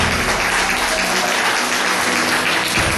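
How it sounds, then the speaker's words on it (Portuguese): Dense, loud applause from a church congregation during a sermon, continuous clapping filling the whole moment without pause. "Pode aplaudir Jesus."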